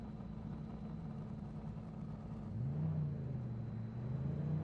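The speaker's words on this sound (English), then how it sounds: "We're hearing someone revving up." A GT3 race car engine in a racing video game idles with a low rumble, then revs up midway and holds a higher drone, sounding distant and muffled.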